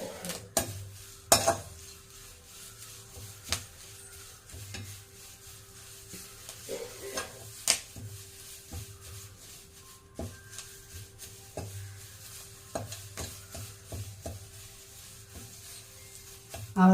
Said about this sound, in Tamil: கருவேப்பிலையும் வறுப்பட்டுச்சு